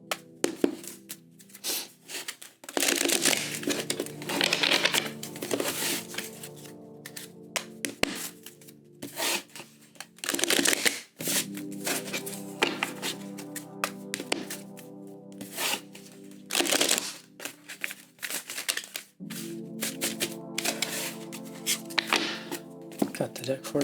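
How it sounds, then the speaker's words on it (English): A tarot card deck being shuffled, with repeated riffling and rubbing card sounds over roughly three rounds, up close, while a person talks softly over much of it and music plays in the background. "we're going to do 3 shuffles"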